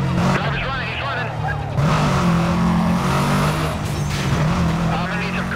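A silver Volkswagen Beetle racing at over 140 during a police chase, a loud, continuous engine roar with shifting pitch and tire noise, heard close and steady throughout.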